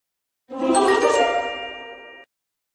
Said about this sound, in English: ping the notification bell so you don't miss any video